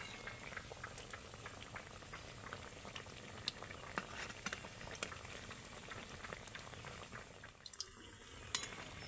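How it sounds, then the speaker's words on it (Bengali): Palm-fruit pitha fry in hot oil, giving a continuous soft bubbling sizzle with scattered pops and crackles. The sound is fairly faint and close, with a brief stirring disturbance near the end. "আর এইভাবে উল্টে পাল্টে কিন্তু ভেজে নিতে হবে।"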